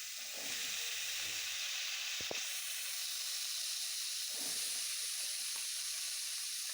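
Lentils lightly frying in about half a spoon of oil in a pan: a steady, faint hiss with a couple of soft stirring scrapes and a brief knock, no voices.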